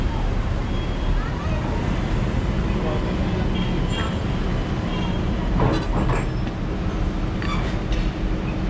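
An Alstom Citadis tram on Istanbul's T1 line rolls past at Laleli-Üniversite with a steady rumbling roar and faint rail clicks, the noise broad and close, with outdoor wind in the background.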